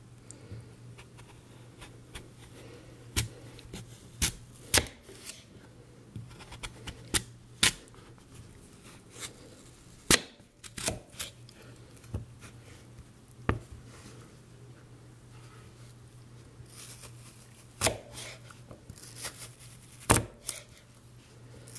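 A knife cuts turnips into long wedges like French fries for pickling, giving sharp, distinct chops at an irregular pace, close and fairly quiet, with no voices.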